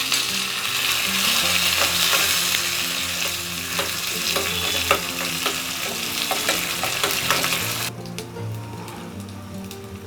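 Curry leaves, garlic, dried red chillies and cumin crackle in hot oil for a sambar tempering, a loud, steady close sizzle with sharp pops that drops noticeably near the end, over faint tonal background sound.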